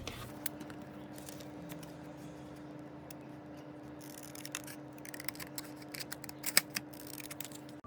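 Scissors snipping through colored paper while cutting out a paper emoji for a handmade Father's Day card, a quiet series of irregular clicks and snips over a steady low hum.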